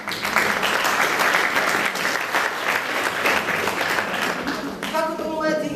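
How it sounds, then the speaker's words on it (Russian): An audience at a concert honoring friendship with Cuba applauds with sustained, dense clapping that fills the whole stretch, loud and close, before a sustained tone begins to rise near the end. "Аплодисменты хотелось бы для вас."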